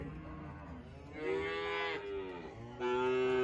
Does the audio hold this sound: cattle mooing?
yes